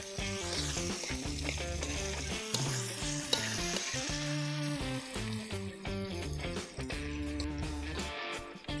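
Sliced betung bamboo shoots fry in a pan with salt and seasoning in Dayak-style home cooking, giving a continuous sizzle with rhythmic stirring scrapes over steady background music.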